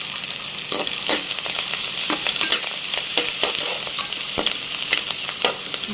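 Curry leaves and turmeric being stirred into a sizzling pan of bitter gourd curry with frying onions, steady sizzle broken by repeated scraping strokes of a spoon, close and fairly loud, no talking.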